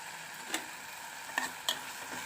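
Tomatoes sautéing in a covered pan, a faint soft sizzle with three sharp clinks and taps of a lid or utensil.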